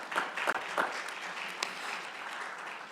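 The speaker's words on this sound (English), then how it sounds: "Thanks for the well-deserved applause for the panelists." Audience applause for panelists at an academic conference on Africa, a steady wash of many hands clapping that starts a bit louder and then holds at a fairly even level, with no talking over it.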